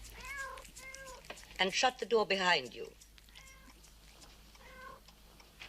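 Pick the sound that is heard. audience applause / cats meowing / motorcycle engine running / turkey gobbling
cats meowing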